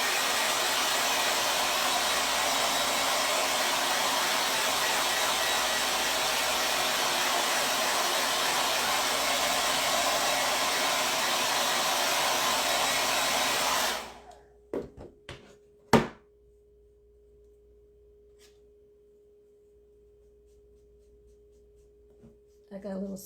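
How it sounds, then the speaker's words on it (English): A blow dryer runs steadily on a craft project for about fourteen seconds, a loud continuous whoosh, then cuts off, leaving a near-silent room with a few light knocks and handling clicks. "I'm going to dry this really quick with the blow dryer"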